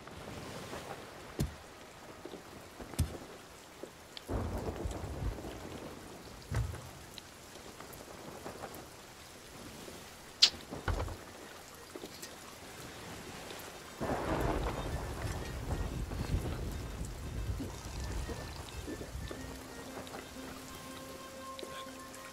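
Thunderstorm at sea in the pirate video game Sea of Thieves: steady rain hissing on a small ship, with several deep thunder rumbles and sharp cracks breaking through, loud and enveloping, no talk.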